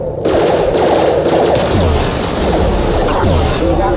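Weapons fire in Mass Effect 2 crackles in a dense, continuous burst of rapid shots lasting several seconds, loud and sustained with layered impacts.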